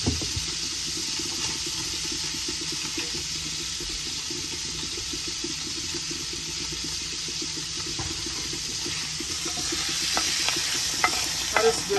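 About a pound of sausage fries in a pan, giving a steady, even sizzle with light stirring and scraping throughout, close by and with no one talking.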